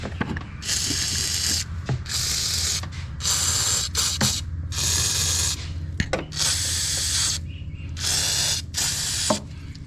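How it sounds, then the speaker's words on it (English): Several bursts of hissing aerosol penetrating oil sprayed onto exhaust manifold studs of a Lexus GS300, each lasting about a second, separated by short pauses, with faint clicks and handling noises in between. "I'm going to spray down these studs on the exhaust manifold"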